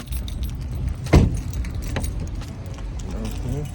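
Keys jangle briefly up close, a single bright metallic rattle standing out over a steady background hum of a car.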